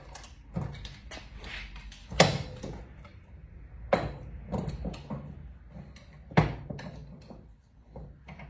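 Flat screwdriver tapping a wheel seal on a Honda Goldwing motorcycle during bearing maintenance, a handful of sharp metallic knocks spaced a second or two apart over quiet mechanical clicks and handling noise.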